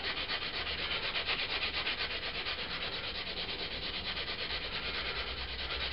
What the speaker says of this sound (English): I'm going to use a fairly coarse sanding stick to start with.